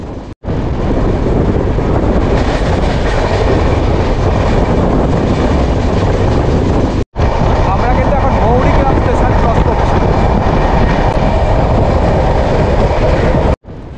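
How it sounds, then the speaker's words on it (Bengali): The 12857 Howrah–Digha Tamralipta Express pulls out of Santragachi station, recorded from inside the coach. Loud continuous rumble and rail clatter carry heavy wind buffeting, with two brief dropouts along the way. "2 মিনিট হল্ট দেওয়ার পর আমাদের ট্রেন এখন সাঁতরাগাছি ছেড়ে বেরিয়ে যাচ্ছে"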